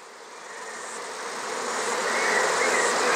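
Honey bees buzz around hives on a hot day, a dense, continuous hum from many insects that swells steadily louder as the swarm comes nearer.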